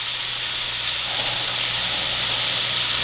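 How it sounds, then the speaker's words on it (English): A pot of water on the boil for cooking gumbo rice gives off a steady, close hiss with a soft bubbling wash and a low hum underneath, constant throughout with no voices. "Alright, we got our water boiling."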